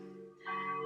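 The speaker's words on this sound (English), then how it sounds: "We're having our own music here with the bells of the church nearby." Church bells ring nearby with steady sustained tones, swelling louder partway through and holding at a moderate level.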